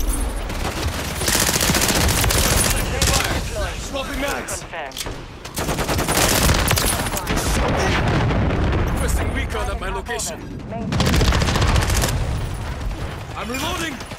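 Dense, loud gunfire in a Call of Duty match, with rapid automatic bursts and explosions rattling almost continuously, and voices talking over the chaos in places.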